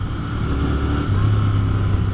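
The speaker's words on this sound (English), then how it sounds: "This exhaust just sounds amazing, this twin 650." A Royal Enfield Continental GT 650 parallel-twin exhaust drones steadily while riding in third or fourth gear, a loud, continuous low rumble with wind noise and a slight rise in pitch partway through.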